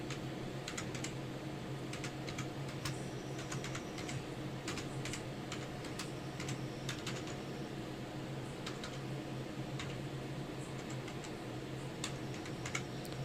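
Steady, fast typing on a computer keyboard, with crisp key clicks close by at an even rhythm over a constant low hum, entering payroll details into an office software form.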